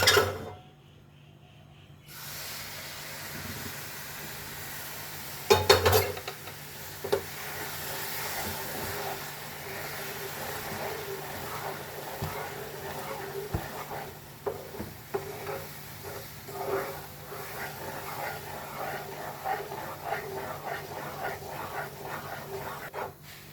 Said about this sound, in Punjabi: ਹੁਣ ਆਪਾਂ ਇਹਦੇ ਵਿੱਚ ਚਾਸ਼ਨੀ ਪਾ ਦੇਾਂਗੇ